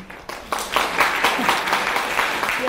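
An audience claps at the opening of a women's forum, a short burst of applause that swells within the first second and carries on steadily with a few voices mixed in.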